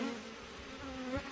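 Bees from a hive built into an electric pole drone in a brief, steady buzz, close and moderately loud.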